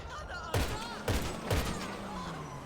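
Three evenly spaced marksman rifle shots ring out in GTA Online, each a sharp crack with a trailing echo over steady game ambience.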